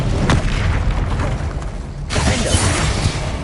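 A blast of the Incendio fire spell in Hogwarts Legacy, a whooshing burst of flame with crackling roar, loud and broadband, surging again after a short dip.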